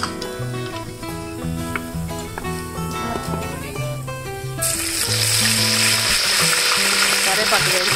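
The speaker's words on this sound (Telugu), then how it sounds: "ఇలా దోరగా వేగిన తర్వాత గ్రైండ్ చేసుకోవాలి." A mixer grinder whirs loudly into action partway through, grinding golden-roasted spices for a Rayalaseema-style fish curry, its dense roar rising over background music that plays throughout.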